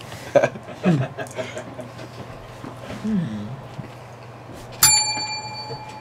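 A bell rings once as a sound effect on a live comedy show, landing as a sharp, bright ding with a ringing tail after scattered chuckles and talk.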